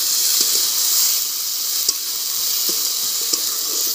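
A ground paste of cumin, ginger and chili hits fried onions in a pan over a wood-fired stove, giving a steady, close hissing sizzle with a few faint clicks of stirring.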